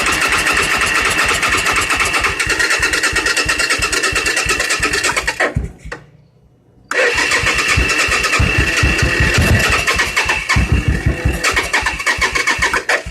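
An old junk engine pops and sputters with throttle as it tries to start, giving a loud rapid chugging with a brief cutout near the middle before the firing resumes.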